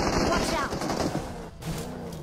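Video game gunfire crackles in rapid bursts, loud and close, with someone talking over the shots.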